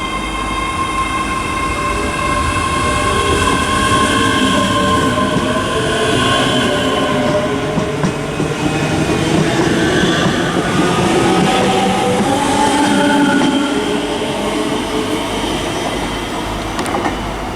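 A ScotRail passenger train, unit 385114, rumbles steadily past at close range through Stirling station, with continuous wheel and engine noise and faint squealing tones throughout.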